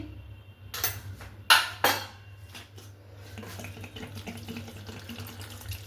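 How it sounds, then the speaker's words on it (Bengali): A little water is poured into a pan of jackfruit kofta curry as it cooks, a few short splashy bursts with clinks of utensils, then a softer bubbling simmer under a low steady hum. "অল্প একটু জল দিলাম"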